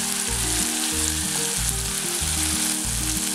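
Diced tomato and potato fry in a pan for sabudana khichdi with a loud, dense, constant sizzle close by, over a low rhythmic hum; no voices.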